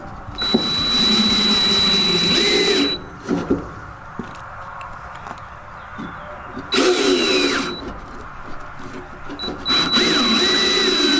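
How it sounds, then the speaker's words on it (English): A power drill drives screws into two pieces of wood on a chicken coop build, whining in three loud bursts of a few seconds each with quieter handling noise between them. "I'm just screwing the two woods together"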